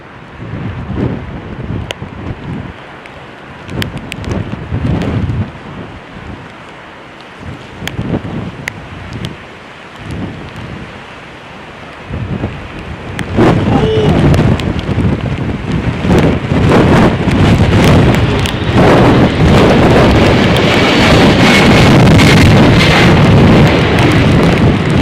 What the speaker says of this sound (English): This Boeing 767 hit wind shear while landing at London Heathrow.